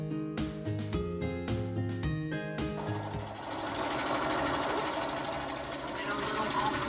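A sewing machine stitches a pillow, a steady mechanical whir and rapid needle clatter running close and continuous after a few brief starts and stops.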